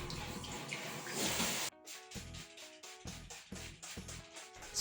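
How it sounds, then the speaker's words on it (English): Water runs and splashes as it rinses a glass shower door that was treated with citrus vinegar. The flow is broad and hissing for the first second and a half, then gives way to quieter, intermittent rinsing with small tonal clinks. "Rinse the glass with water."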